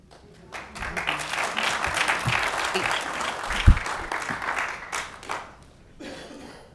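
A room full of people at a city committee meeting applauds for several seconds, dense clapping swelling and then tapering off, with a few voices and chuckles mixed in.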